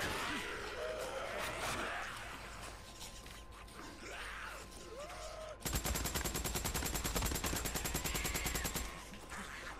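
Rapid automatic gunfire in the zombie-horde shooter Days Gone at McLeod Ridge, a dense burst of evenly spaced shots starting partway through and running to the end over game ambience and earlier scattered effects.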